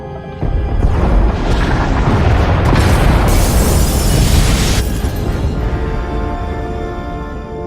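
Massive sci-fi explosions tear through escape pod bays in Star Wars: The Old Republic, a loud sustained roar of booming blasts and crackling debris rolling on for several seconds.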